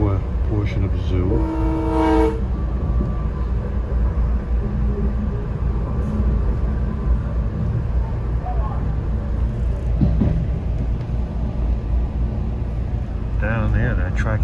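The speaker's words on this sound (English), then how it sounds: "a long and a short is the universal whistle signal for acknowledging track workers" A train horn sounds a long-then-short whistle signal acknowledging track workers near the Mantua section of the Philadelphia Zoo, heard early amid steady rolling rail rumble, with voices talking over the passing train.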